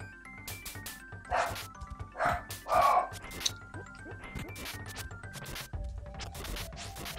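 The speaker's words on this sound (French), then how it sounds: "Fermez ta gueule, le chien, sans déconner" A dog in Trials of Mana (Seiken Densetsu 3) barks repeatedly in short, sharp bursts over game music and clatter, with a few loud yips clustered near the middle.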